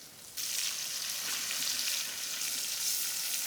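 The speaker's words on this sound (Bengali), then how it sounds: "একটু বেশি তেল দিয়া মাছটারে ভুনিয়ে নেব" Hilsa fish frying in plenty of oil with browned onions: a bright, steady hiss and sizzle that jumps in suddenly and holds evenly, close up, with no talking.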